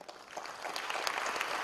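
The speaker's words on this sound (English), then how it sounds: "a special round of applause for all of them" At a health awards ceremony the crowd breaks into applause, a wash of many hands clapping that swells slightly toward the end over a short burst.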